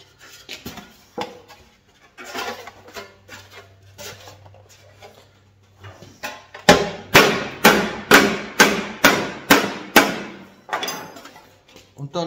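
Sheet metal double standing seam being hammered shut at a wall junction. Scattered softer taps and knocks come first, then a steady run of loud, close, ringing hammer strikes.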